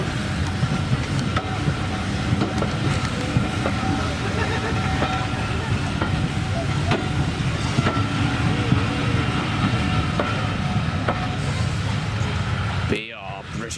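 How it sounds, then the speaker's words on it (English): A Bluebell Railway train departs, its bogies rattling and clanking in a steady, busy rumble with scattered metallic knocks, while a voice talks over it; near the end the noise drops away suddenly. "As it departs, there's action of the bogies there."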